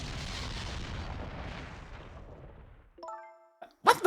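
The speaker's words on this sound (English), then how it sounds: "What in the world? An explosion?" A video game explosion: a broad rumbling blast that decays over a few seconds, followed by short chiming tones and a sharp burst at the end.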